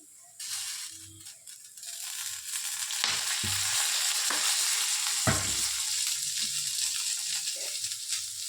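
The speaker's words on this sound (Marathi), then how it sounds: "आणि थोडंसं तेल ओतते" Oil poured into a hot pan bursts into loud, continuous frying hiss and crackle, with a few rattling stirs of the pan underneath, close and steady throughout.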